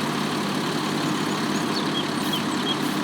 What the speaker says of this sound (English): Why does this sound like a Cummins?